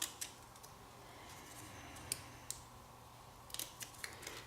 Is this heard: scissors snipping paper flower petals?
yes